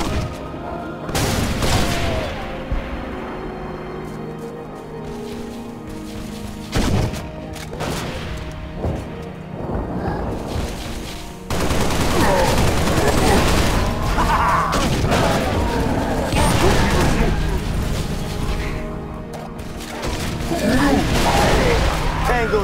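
Gunfire from an all-out firefight in the video game Beachhead: repeated sharp shots, bursts of automatic fire and heavy booms, loud and close, with game voices calling out over the din.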